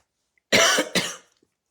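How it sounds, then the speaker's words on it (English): A woman suffering from hay fever gives two harsh, close coughs in quick succession, loud and abrupt, followed by silence. "I hope I'm not going to cough all night"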